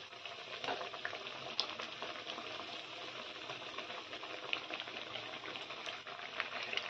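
Leftover rice tikki sizzles in a hot oiled pan as the patties are gently turned, a continuous close crackle dotted with sharper pops and no voices.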